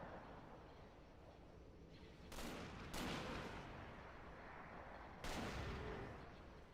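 Starship broadside cannon fire in the space game Project Stardust: three booming volleys that are sharp at the onset and fade into a long rumble, fairly faint over a steady low hum.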